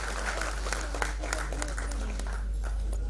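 An audience at the Maharashtra Ratna award ceremony in Pune gives a steady round of applause, dense overlapping hand claps that go on without a break for several seconds.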